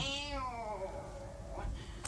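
A house cat meows once in a long, falling cry in an indoor domestic scene, fairly close and clear, with a brief rustle near the end and no talking.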